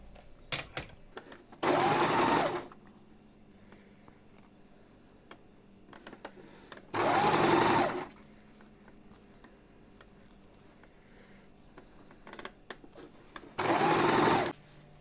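Sewing machine stitching mikado fabric, three separate bursts of steady motor whirring, each lasting about a second, separated by quieter handling noises and light clicks.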